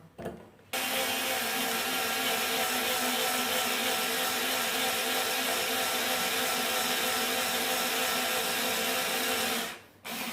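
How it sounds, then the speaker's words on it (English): A Parkside PSSA 4 A1 cordless screwdriver whirs steadily for about nine seconds as the bit grinds against 2mm steel, a constant high-pitched buzzing that stops abruptly near the end. "I've got this piece of steel. I will try to drill it."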